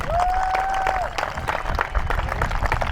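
Brief applause from a crowd greets the club members at a Bronco Stampede event in Kennewick, a few seconds of steady clapping with a whistle-like tone at the start.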